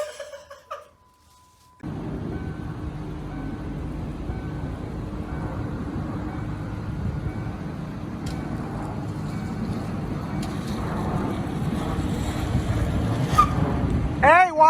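A freshly installed replacement engine in a Charger car idles loudly and steadily after a brief quiet start, with a constant low rumble and wind-like roar continuing for several seconds.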